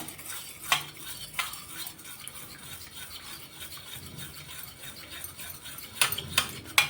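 Spoon scraping and stirring through a homemade cornflour face pack mixture in a small bowl, a soft continuous rasp with a few sharper clinks near the start and end, close and fairly quiet with no talking.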